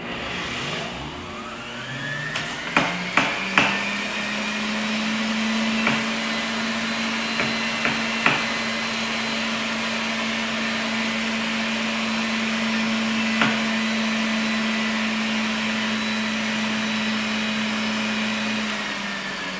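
An electric juicer pressing a small nub of ginger whirs with a steady, loud motor hum, punctuated by a few sharp clicks and knocks early on as pieces drop into the feeder.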